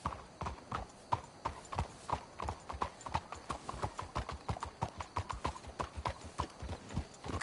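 Horse hooves clip-clop in a steady, quick rhythm for the whole stretch as horses travel in Red Dead Redemption 2. The hoofbeats are close and even, with no talking.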